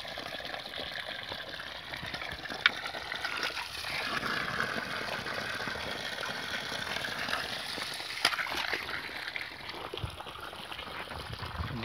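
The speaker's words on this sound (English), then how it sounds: "And this is a delivery pipe. Pumping water from 200 meters." Water pumped from 200 meters away rushes steadily through a drip irrigation delivery pipe at a banana plantation in Uganda, a continuous close hiss and gush with no speech.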